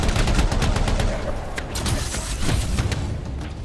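Dense, continuous gunfire from the sci-fi shooter game Anthem, a loud, steady stream of overlapping rapid shots and bursts with no pauses.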